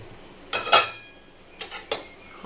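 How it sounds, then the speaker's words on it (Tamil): A metal lid goes onto an appam pan with two or three quick clinking knocks and a scrape, close and bright, separated by short quiet gaps with no talking. "இப்போ இதை மூடி போடலாம்"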